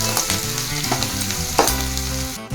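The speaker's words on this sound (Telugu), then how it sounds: "సో ఇప్పుడు దీంట్లోకి తురుముకున్న క్యారెట్ కూడా యాడ్ చేస్తున్నాము. యాడ్ చేసేసుకొని వన్స్ మొత్తం మిక్స్ చేసుకోవాలి." Grated carrot frying in a pan for sago upma, a loud close sizzle with brisk scraping strokes as it is stirred.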